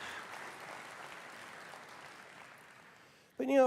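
Crowd cheering and applause from a Pax Dei keynote at Unreal Fest 2024 plays back faintly, a broad wash of noise that slowly fades before a voice abruptly cuts in at the end.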